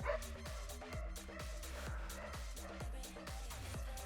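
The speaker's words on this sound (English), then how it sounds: "You might be able to hear my puppy." Small, yappy puppy barks repeat in a quick, steady rhythm, fairly faint and a little distant, over a low background hum.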